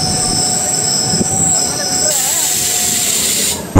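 A train pulls into Gollahalli railway station, its wheels squealing loudly and steadily over the rails with a constant rumble from close by, and a thud as it ends.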